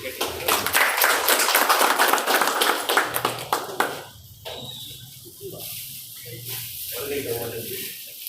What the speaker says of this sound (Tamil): கரகோஷம் கேட்டு